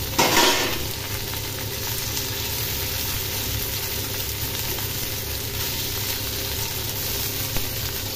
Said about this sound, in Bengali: এটা হচ্ছে খুব অল্প তেলে হবে চিকেনের টুকরোগুলো